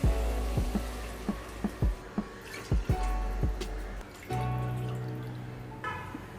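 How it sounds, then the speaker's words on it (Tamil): Water poured into a pan of sautéed spinach and rice for palak pulao, with sharp drips and splashes giving way to a steady pouring stream, close and fairly quiet. "இப்போ நம்ம தண்ணி சேர்த்துக்கலாம்."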